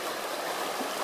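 A river flows at a trail crossing in Shenandoah National Park. The close, steady rush of water stays loud and fills the clip with no pauses.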